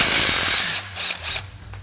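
Impact wrench fitted with an 18 mm socket spins a stubborn steering damper bolt loose on a Jeep Wrangler JK, a loud close whirring burst for most of a second, followed by two shorter, quieter mechanical buzzes.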